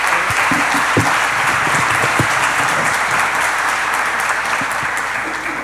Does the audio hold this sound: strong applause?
yes